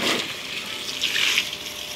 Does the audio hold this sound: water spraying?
yes